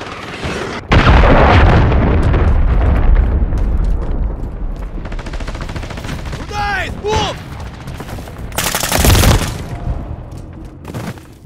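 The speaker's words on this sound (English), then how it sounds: "Hostiles launched a cruise missile." Cruise missile strike in Call of Duty MW3 on the Invasion map, a loud sustained rumble of explosions and gunfire with a sharp blast burst near the end, under occasional game voice callouts.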